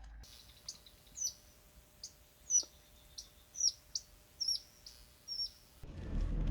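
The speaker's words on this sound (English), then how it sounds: "So nice to just sit here and listen to the birds and the water." Birds singing beside a river in Kruger, a series of short clear chirps and whistles repeating about every half second over a quiet background, ending with a rush of noise.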